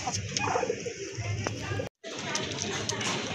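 A pair of Rajgolla pigeons cooing on a farm, soft repeated coos under someone talking steadily, with a brief gap midway.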